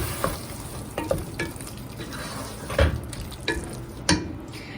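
Okra with tomato paste sizzles softly in a pan while a spoon stirs it, giving a low steady fry under a few scraping strokes and light knocks against the pan.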